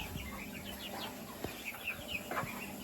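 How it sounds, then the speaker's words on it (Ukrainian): A broody hen sitting with her chicks in a backyard coop gives soft, faint clucks while the chicks peep in high, scattered chirps against steady low background noise. "А ще у нас тут кочка сидить з курчатками."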